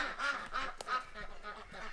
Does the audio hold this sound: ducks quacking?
yes